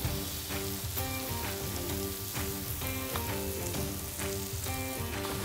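Eggs scrambled on a hibachi griddle give off a dense, even sizzle throughout, sitting under a pulsing background music track.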